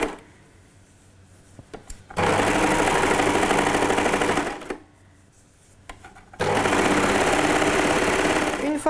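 A serger overlocks the seam of a kimono blouse in two loud, steady bursts, each running about two seconds, with quiet pauses between them.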